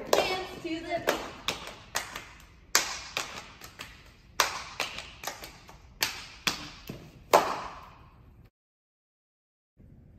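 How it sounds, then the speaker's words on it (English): Hands clapping in a steady beat at a high school football cheer, sharp claps in quick groups with short pauses, fairly close, ending in near silence; no talk over them. "clap your hands to the beat"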